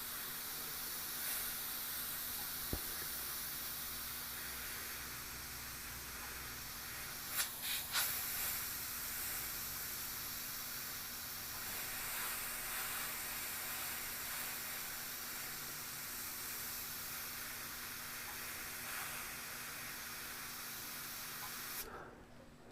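An airbrush sprays in a long steady hiss that runs almost unbroken, with a few brief clicks and bumps partway through and a sudden cut near the end; no one speaks.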